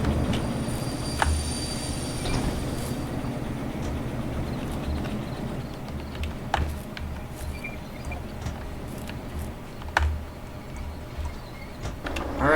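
A locomotive in the Derail Valley train game backs up slowly to couple onto a line of cars, making a steady low rumble with rhythmic wheel clacks and occasional metallic clanks over the track.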